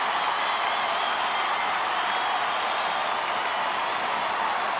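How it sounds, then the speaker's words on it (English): A large crowd at a 1998 AFL football match between Carlton and Adelaide roars and cheers for an opposition player's goal, a loud, sustained broadband wall of cheering and applause filling the whole stretch. "Has any opposition player received such a cheer for kicking the goal ever as Whitnell has?"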